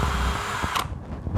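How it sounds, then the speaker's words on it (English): A power drill with a brad point bit bores straight down into a kitchen cabinet for hardware, a loud whirring run that cuts off abruptly and then bursts back briefly at the end, close and alone. "We're gonna drill down as straight as we can go."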